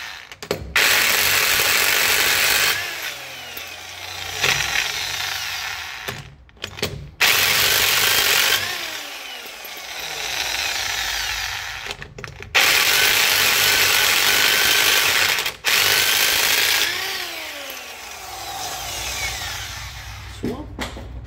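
An impact wrench with a 17 mm socket works the wheel of a Peugeot 308, loud whirring bursts of several seconds each broken by short gaps, with quiet talk in the background.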